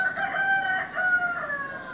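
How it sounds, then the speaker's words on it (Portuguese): A rooster crows beside a palm plantation where heart of palm is harvested, one long, drawn-out call rising and falling over about two seconds, fairly close and clear with no talking. "E o galo cantando."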